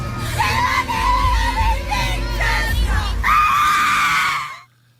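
A girl in the front row of a concert screams her lungs out, loud sustained shrieking rising in bursts over crowd noise, ending with a long high scream before cutting to near silence.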